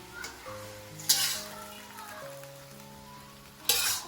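Food sizzles in a hot wok with two sharp bursts of stirring and tossing, separated by a calmer stretch of steady frying.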